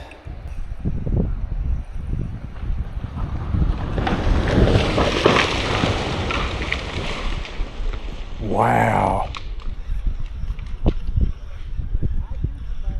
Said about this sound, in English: there's a big chunk of that rock just fell